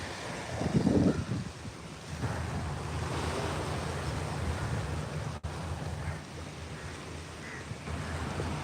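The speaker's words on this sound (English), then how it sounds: "And then the waves in the background again a bit too loud." Ocean waves wash steadily in the background, a continuous broadband surf rumble with a louder surge near the start and gusty wind buffeting the microphone throughout.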